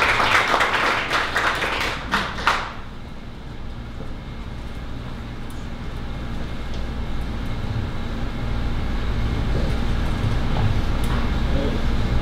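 An audience at a 1 Million Cups Dallas pitch event gives a short round of applause for a presenter, a burst of clapping lasting about two and a half seconds before giving way to a low, steady room hum.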